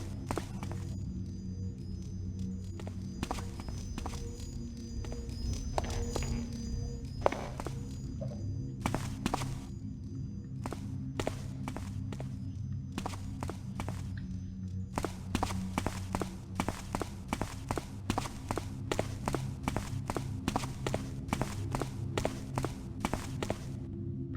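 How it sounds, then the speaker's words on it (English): Footsteps in the video game The Black Parade: a run of sharp, regular thudding steps, sparse at first and then a quick steady cadence, over a low droning game ambience. "I hear footsteps."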